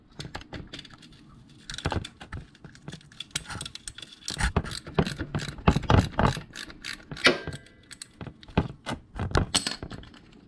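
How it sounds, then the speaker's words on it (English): A 3/4 inch socket working a bolt loose on a 1998 Harley-Davidson Electra Glide Classic during an oil change: a close run of quick metallic ratchet clicks and clanks in irregular bursts, with no talking. "I'm going to use a 3/4 inch socket, and I'm going to go ahead and loosen this bolt right here."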